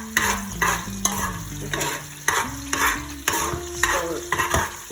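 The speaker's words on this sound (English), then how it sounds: "let it simmer a little bit" Beef or lamb curry cooking in a pot, with steady frying sizzle and repeated stirring scrapes at a regular rhythm, close and fairly loud, and a brief word spoken once.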